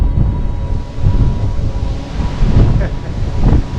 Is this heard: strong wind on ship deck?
yes